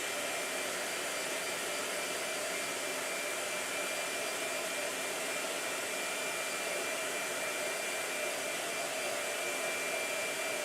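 Blow dryer running continuously, a steady loud whooshing roar of motor and airflow that holds unchanged throughout without pauses or talk.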